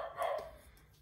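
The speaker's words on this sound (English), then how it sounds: "the dogs have just started barking as well" A dog gives a single short bark, fairly faint and somewhat distant, followed by quieter trailing yips in a still indoor room.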